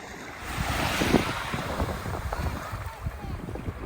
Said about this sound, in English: It's a beautiful beach.